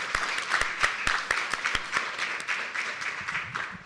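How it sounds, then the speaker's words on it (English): An audience applauds the panelists at a knowledge-sharing event in Quebec, a short burst of dense mixed clapping with a few sharp individual claps standing out, tapering toward the close. "we will do one more round of applause of thanks for all of our panelists here today"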